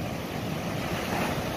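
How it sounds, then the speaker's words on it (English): Rough surf rolls on the Gulf of Mexico at Gulf Shores, Alabama, a constant broad wash of breaking waves with wind buffeting the microphone, no voices. "The water's pretty rough, but man, it's cool."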